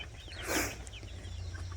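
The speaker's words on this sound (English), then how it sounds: "But this is how my chickens are doing. Super, super happy." Backyard chickens cluck softly in a summer garden, with one brief louder cackle near the middle over a low, steady background hum.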